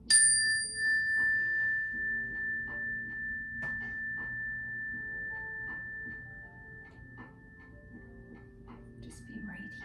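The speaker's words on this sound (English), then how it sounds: "here we are with our chime. We're going to listen and just notice when you don't hear it anymore" A meditation chime is struck once and rings with a clear, sustained tone that slowly fades, while a person talks quietly over it and a few faint knocks sound.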